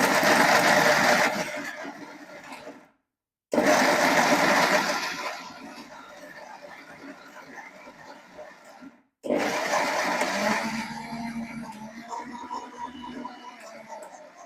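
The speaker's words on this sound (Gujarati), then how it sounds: "લઈ લેવાનું મિક્સર, ઘૂમી લઈ લેવાનું અને હે ને એને ગ્રાઇન્ડ કરી નાખવાનું." A kitchen mixer grinder whirs loudly in three bursts, grinding roasted ingredients into homemade protein powder, each run cutting off abruptly with short pauses between.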